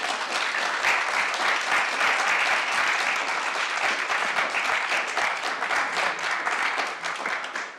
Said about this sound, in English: I don't mind if you clap